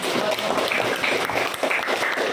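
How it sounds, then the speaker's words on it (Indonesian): Classroom applause from students after a correct answer, a steady, fairly loud patter of clapping throughout, with faint voices underneath. "Tepuk tangan dulu"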